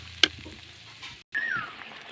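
Masala spices with coriander, cumin, meat masala and chili powder cooking in oil for a potato and pointed gourd curry, faint sizzling with a sharp clink of a spoon and stirring scrapes, quiet and close.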